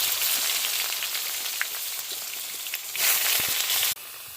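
Brinjal frying in hot oil in a pan, a bright, continuous close sizzle with scattered crackles that swells briefly before dropping off abruptly.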